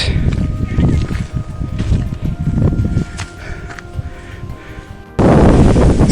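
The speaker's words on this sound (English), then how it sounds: "So breezy it is on top." Wind gusts across a hilltop fort summit, a steady broadband rush with rustling and handling bumps, growing louder and more buffeting toward the end.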